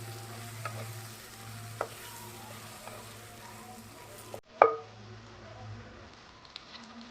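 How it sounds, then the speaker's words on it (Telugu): Tomato and mango pieces frying in a pan, a quiet low sizzle with occasional faint scrapes of stirring and a brief louder clatter midway, close and fairly soft. "వేసి ఇవన్నీ కూడా కలుపుకొని ఒకసారి వేగనిద్దాం వీటిని."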